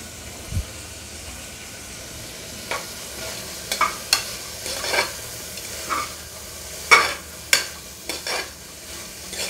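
Half a spoon of ginger garlic paste frying in a pan with vegetable pieces for broccoli coconut rice, a steady low sizzle broken by a series of sharp stirring scrapes that grow more frequent toward the end.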